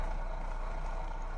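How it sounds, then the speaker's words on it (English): A truck ride sound effect plays during a tabletop game session, a steady, fairly loud rumbling engine drone with road noise that holds constant throughout. "Let's put on the truck ride instead."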